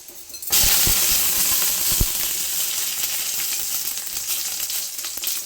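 Tomatoes sauteing in a hot steel pan for sprouted-bean saaru sambar, a loud bright sizzle that bursts in suddenly and holds steady, with a couple of sharp utensil clinks near the start.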